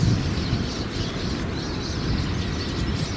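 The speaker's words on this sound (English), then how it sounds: "These finches were found on the sanctuary, and they're quite loud" A flock of roughly 15 to 20 finches on a sanctuary gives harsh, continuous calls at a moderate distance, layered over a steady background hiss.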